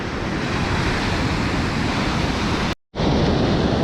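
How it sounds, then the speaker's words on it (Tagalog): Strong ocean waves at Salalah, Oman crash in a loud, continuous roar of surf close to the shore, broken by a brief dropout of silence near the end before the wash resumes. "napakalakas ng alon"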